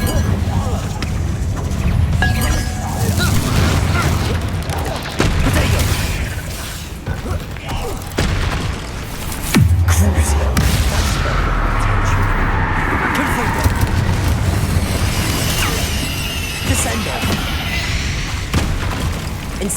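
Confringo fire spells blasting in Hogwarts Legacy, a run of heavy booming explosions and crashing impacts over a continuous rumbling game soundscape, with a voice speaking now and then.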